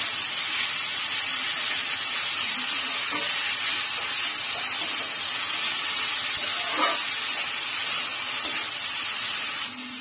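Onions and cabbage frying in a pan for chicken soup momos, a steady loud sizzle and hiss filling the whole stretch with faint clinks, tapering slightly at the end.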